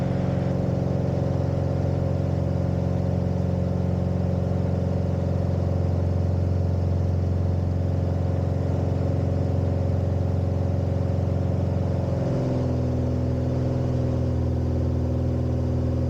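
A light aircraft engine runs at full throttle through a chandelle, a loud, steady, unbroken drone that shifts pitch briefly around the twelve-second mark before settling again.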